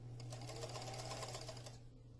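A sewing machine stitches a saxophone bag in a close, steady run of rapid needle clatter lasting most of the moment, then stops and leaves a faint hum.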